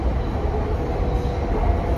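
Steady, loud rumble of a metro train riding along the rails, heard from inside the carriage as a continuous, even roar with no speech.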